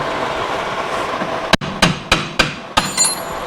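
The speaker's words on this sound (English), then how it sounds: "Maybe we get out the big hammer again." After a steady background rumble, five heavy metallic blows from a big hammer ring out at an even pace during a disc brake conversion on a 1960s muscle car, each sharp and loud with a short ringing decay.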